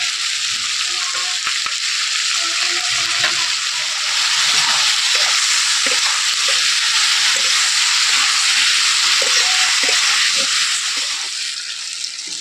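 Pointed gourd (potol) seasoned with salt and turmeric frying in a pan: a loud, steady, close sizzle of hot oil that continues throughout with no talking.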